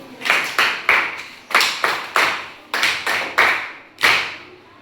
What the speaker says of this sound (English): Applaud for Mary.